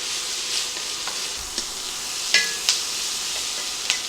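Ingredients for a beefy nacho soup cook down in a single pot, sizzling steadily with occasional stirring scrapes and small crackles, close and alone without speech.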